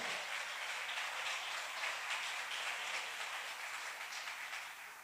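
A church congregation applauds in a sustained, even wash of clapping that holds steady and then eases slightly toward the end.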